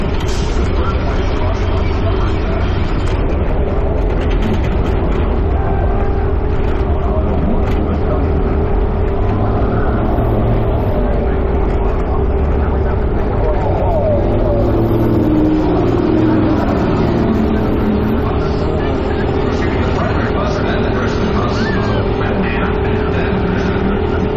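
School buses racing at Cedar Lake Speedway, a loud continuous roar of engines under an announcer's commentary, with the pitch swelling as the buses go by.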